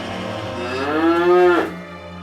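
A prize bull on a country estate gives one long, close moo that rises in pitch and ends abruptly, loud and alone.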